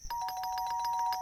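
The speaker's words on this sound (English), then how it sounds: "He continued pressing the bell" An electronic doorbell at a house gate, held down, rings in a fast repeating two-tone chime pattern that is steady and clear, with no talk over it.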